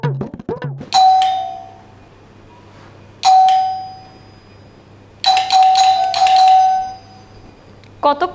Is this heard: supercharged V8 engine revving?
no